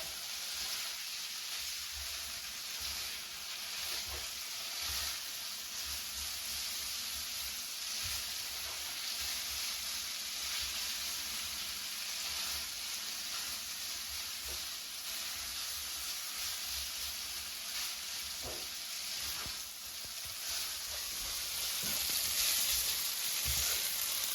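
Whole wheat spaghetti is stirred through sizzling garlic and olive oil, giving a loud, continuous frying hiss with occasional soft scrapes of the spoon that builds slightly toward the end.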